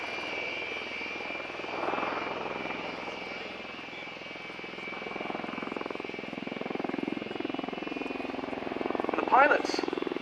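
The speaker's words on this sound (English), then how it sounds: "there you can see the tilting of the rotors, which of course is key to this aeroplane" A CV-22B Osprey tiltrotor displays at the Air Tattoo air show, its rotors giving a steady, moderately distant droning thrum that swells slightly toward the end, under a commentator's voice.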